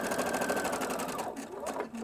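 A sewing machine restitches the neck edge of a jacket, running in a steady, rapid stitching rhythm close up for about two seconds and shifting tone slightly near the end.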